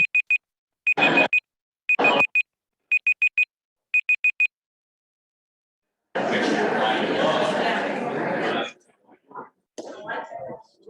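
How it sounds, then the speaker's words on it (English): A phone alarm goes off during a conference presentation. Several short, loud beep bursts repeat in a rhythmic pattern, then a stretch of voices and noise follows. "my phone alarm went off after 8 minutes"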